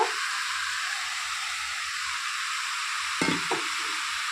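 Catla fish heads and cabbage sizzle loudly in a hot pan, a steady dense hiss with a couple of brief stirring knocks near the end. No one speaks.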